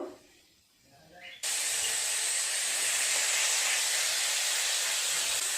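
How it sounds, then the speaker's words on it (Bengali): Ginger paste is stirred and fried in a pan with cumin seeds and turmeric, a quiet start giving way abruptly to a loud, steady hiss of frying that holds to the end. "আদাটা একটু নেড়ে চেড়ে নিলাম"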